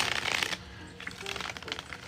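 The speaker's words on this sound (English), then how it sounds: "I'm shuffling for you." A deck of tarot cards is shuffled close up, a quick burst of riffling followed by softer patters and shuffles over faint background noise.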